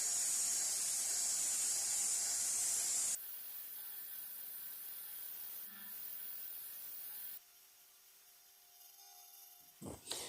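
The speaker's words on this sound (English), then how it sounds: "we have to put this on the belt sander to clean those off" An old, rusty, dented Zerem No. 400 multi wrench is cleaned up on a belt sander. A loud abrasive hiss runs for a few seconds, then gives way to quieter rubbing and a few light knocks at the end.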